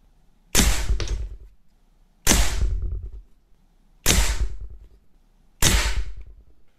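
Four sharp air rifle shots firing lead pellets, each a loud crack with a short decaying tail, spaced about one and a half seconds apart, close and with no talk.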